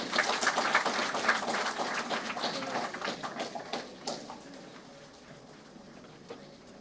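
Audience at a Rotary Club vocational services awards ceremony claps to welcome a guest, a fairly close, crisp burst of individual claps that thins and fades over several seconds.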